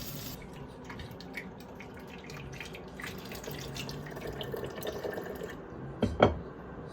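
Homemade cider is poured from one container to another, giving a steady liquid trickle and splashing that builds toward a louder gurgling burst near the end, with no talking.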